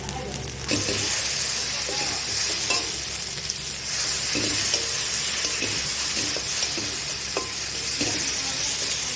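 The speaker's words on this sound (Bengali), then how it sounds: "এইভাবে মশলাটাকে নিজের মতন ভালো করে ভেজে নেব।" Spice paste sizzles loudly in a hot pan while being stirred for a Bengali silver carp kalia, with a steady frying hiss broken by repeated scraping strokes of the spoon.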